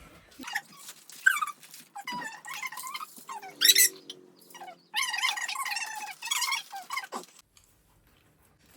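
A pet dog whines and squeaks in several close, high-pitched bursts with short pauses between them, the cries rising and falling before trailing off into near silence.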